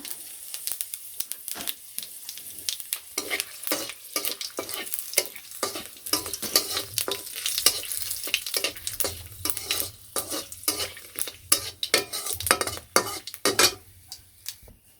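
Whole cumin seeds, black pepper, cloves, cardamom and cinnamon frying in hot oil give a steady close sizzle, broken by rapid clicks and pops and the scrape of a stirring spoon against the pan, with no talk.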